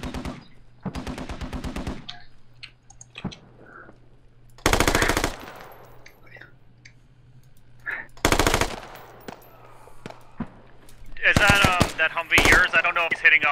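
Bursts of machine gun fire in the military shooter game Squad, several loud sustained volleys with gaps between, mixed with a steady low hum, while players talk over radio.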